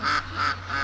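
Three nasal quacks from ducks in quick succession, fairly close and clear over a low steady background hum, no talking.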